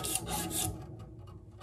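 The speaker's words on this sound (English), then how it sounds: "I'm just gonna do my scrubbing action again." Rapid back-and-forth scrubbing with a paste of ash, baking soda, white vinegar and dish soap makes a close, raspy rubbing that starts loud and fades a little toward the end.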